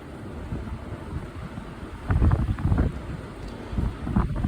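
Strong wind gusts outdoors during a high wind warning in St. Lawrence County, New York, buffeting the microphone in low, rumbling surges that swell and ease over a few seconds.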